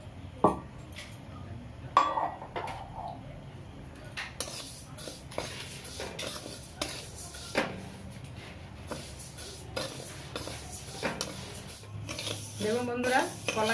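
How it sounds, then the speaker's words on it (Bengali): Mung dal dry-roasting in a karai for khichuri, with irregular scraping and clattering of a spatula against the metal pan, intermittent and fairly close, amid quiet kitchen clinks. "মুগের ডালটা একটু ভেজে নেব।"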